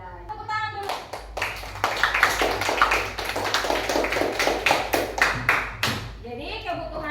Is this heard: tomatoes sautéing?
no